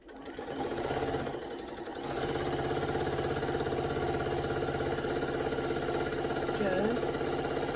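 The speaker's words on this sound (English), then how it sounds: "now I'm going to sew along this seam again so that everything is enclosed" A sewing machine stitches a second pass along a French seam on a skirt, running steadily and close up, with a brief pause near the start before the motor's even whir resumes for the rest of the clip.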